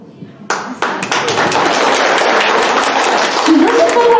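Lively applause from a crowd at a school first-grade induction ceremony, starting abruptly and swelling into dense, sustained clapping close by, with a voice faintly rising near the end.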